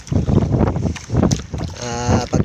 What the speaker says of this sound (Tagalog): ang alon talagang malalaki. Ayan, ang likot ng bangka natin